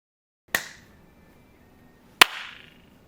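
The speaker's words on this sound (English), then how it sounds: "We're clapping so that Brian can sync up the video with the audio" Two sharp hand claps about a second and a half apart, close and dry with a quick decay, in an otherwise quiet room during a podcast recording; no talking.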